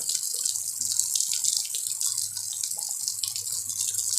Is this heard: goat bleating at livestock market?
no